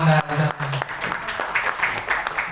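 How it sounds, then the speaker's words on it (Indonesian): Audience applause at a Hizbul Wathan scout gathering in Pekanbaru, a short burst of clapping mixed with voices, starting loud and trailing off. "Kita kasih tepuk tangan untuk Ramanda."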